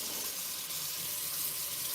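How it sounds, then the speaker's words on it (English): Running tap water rinsing a mixer's whisk beater in a kitchen sink, a steady, close, full hiss of flowing water without pause and no talk. "So let me rinse off my beater really quick."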